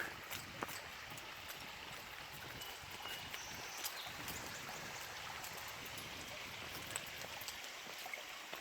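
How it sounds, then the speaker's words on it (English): A small, shallow stream on the Wildwood Trail runs below a footbridge, a faint, continuous trickling and hiss of water heard from a little distance, with scattered light knocks and no talk. "Doesn't have much water in it, but you can hear the water running"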